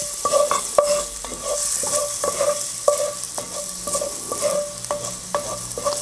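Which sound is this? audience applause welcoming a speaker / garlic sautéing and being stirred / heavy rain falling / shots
garlic sautéing and being stirred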